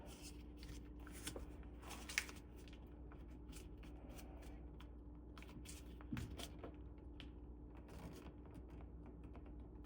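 Paper is creased and folded for an origami crane, with quiet, close crinkles and soft taps coming in small bursts over a low background hum.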